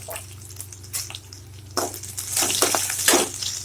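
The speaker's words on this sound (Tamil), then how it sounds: "அடுத்த கருவேப்பிலை போட்டுடலாம் இந்த காஞ்ச மிளகா கொஞ்சம் போட்டுடலாம் சும்மா தாளிப்பு பண்ணிட்டு" Garlic, curry leaves and dried red chillies hitting hot oil for tempering, first a light crackle, then a steady, louder sizzle that swells with bursts of spitting as the pan keeps frying.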